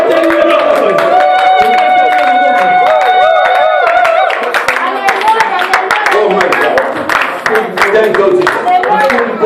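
A church congregation at a Sunday service claps and acclaims, with loud voices calling out over a dense, steady crowd roar and rapid, sharp handclaps.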